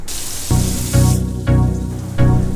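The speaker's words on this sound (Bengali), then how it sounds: "যখন আলুগুলো ভাজছি এই এই সময় আর কি একটু নুন দিতে হয়" Potatoes fry in hot oil in a kadai, giving a steady hissing sizzle that swells in several rhythmic surges, close and fairly loud, with no talking.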